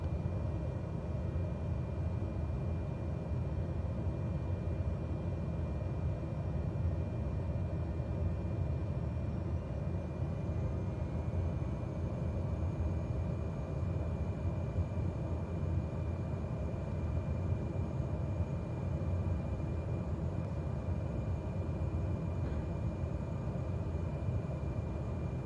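Airplane engine droning in Microsoft Flight Simulator 2020, a steady, low, even hum that holds unchanged throughout with no talk.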